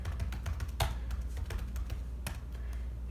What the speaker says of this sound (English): we're just gonna open up a terminal window and type kill all Python